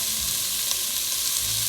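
Celery, onion and carrot sauté in a pan with a dense, loud, continuous sizzle heard up close, with no voices over it.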